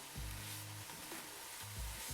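Pancetta crisping in a dry pan with no added oil, giving a steady, faint sizzle throughout with brief low rumbles from the pan being moved.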